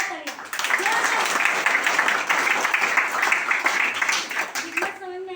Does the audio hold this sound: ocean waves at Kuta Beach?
no